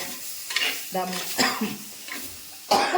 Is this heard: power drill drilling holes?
no